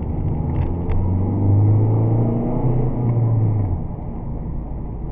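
A car engine hums and rumbles from inside the cabin, a steady low drone that eases slightly as the car slows to about 50 km/h.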